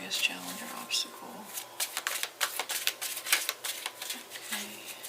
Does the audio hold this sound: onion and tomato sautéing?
no